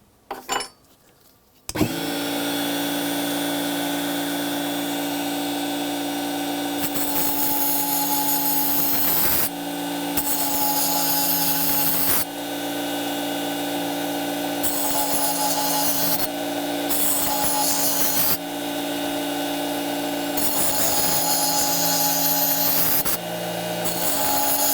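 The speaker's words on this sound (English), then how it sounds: "Now we're going to grind these teeth off and make new ones and try and match this." A Tigers Teeth sharpener cuts new teeth into an oscillating multi-tool blade, making a loud, steady grinding drone with a rasping buzz. The grinding is interrupted briefly several times and then picks up again. No voices are heard.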